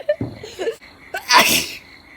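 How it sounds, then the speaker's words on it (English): A single loud, sharp sneeze bursts out after a short stretch of soft voices and breaths, standing out close and clear in an indoor setting. "High five the first sneeze!"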